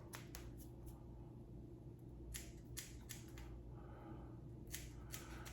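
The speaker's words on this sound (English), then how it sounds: "These little trimming scissors" Small trimming scissors snipping eyebrow hairs, a quiet close run of crisp metallic snips in short irregular bursts with pauses between, no voices.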